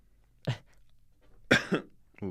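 Three separate coughs break a quiet room, the middle one a harsh double cough, close to the listener.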